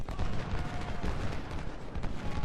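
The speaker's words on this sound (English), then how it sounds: "Whitworth rifles." Steady crackling volleys of Whitworth rifles firing in the video game Ultimate General: Civil War, a dense rumbling fusillade of distant shots at moderate loudness with no voices.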